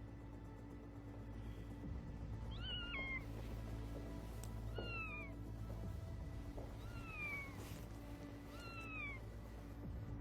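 A cat meows repeatedly beneath an apartment building, three or four drawn-out mewing calls spaced a couple of seconds apart, faint against a steady low traffic rumble.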